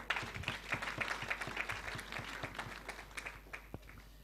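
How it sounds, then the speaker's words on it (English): A small crowd claps at an aviation academy graduation ceremony in Uganda, a faint, slightly distant stream of individual claps that gradually thins and fades, with no speech over it. "Another round of applause, please."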